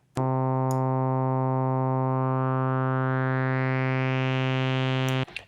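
A single bright Arturia Mini V4 synthesizer note with the sustain control turned up holds steady for about five seconds, its tone brightening gradually before cutting off abruptly.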